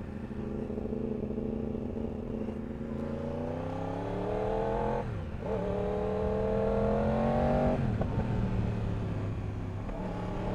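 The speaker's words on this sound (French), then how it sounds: "Oh, le crossplane, le son du crossplane, surtout avec son SC Project." A 2015 Yamaha R1 with a crossplane engine and SC Project exhaust, heard close and loud as the engine revs in rising sweeps with a brief dip between pulls, giving a rough, throaty growl throughout with no talk.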